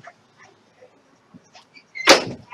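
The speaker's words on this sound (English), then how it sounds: "Sorry, folks. I had to uh, close the door." A door closed indoors: a single sharp thud with a brief rattle near the end, preceded by faint scattered shuffling and quiet handling noises in an otherwise still room.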